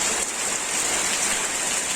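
Heavy rain during a storm pours down in a dense, steady hiss of drops, loud and continuous, with no voices.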